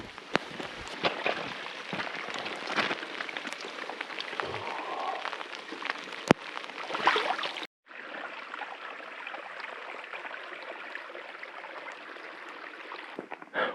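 Steady rain patters on surfaces while backpacking in the Idaho mountains, a continuous moderate hiss with occasional louder drops and a brief break, with faint talk barely present.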